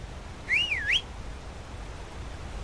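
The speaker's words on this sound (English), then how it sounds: "whistle for a horse" In Skyrim, a player gives a single short whistle for a horse: a bright, clear tone that swoops up and down for about half a second, then gives way to quiet background hiss.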